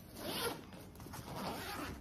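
A zipper on a Motiv Abyss large backpack is pulled in two quick close-up rasping strokes, soft and alone.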